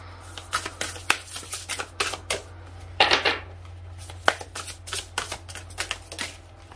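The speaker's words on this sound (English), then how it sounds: "I'm feeling drawn to pull an extra card here as well." Tarot cards are shuffled and pulled in a quick run of crisp riffling flicks and snaps, close and fairly quiet, with a fuller burst of shuffling partway through and no talk.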